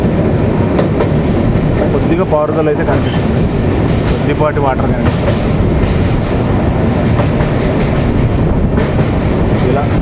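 The 22318 Humsafar Superfast Express rolls from Jammu Tawi toward Ludhiana across a long river bridge, a loud, continuous rail roar with rhythmic clatter while someone talks over it.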